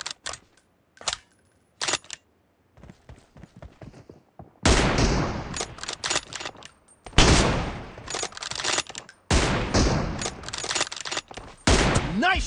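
In a PUBG Mobile one-on-one team deathmatch with M24 sniper rifles, sharp in-game gunshots ring out, first isolated cracks and then dense bursts of firing, loud and close.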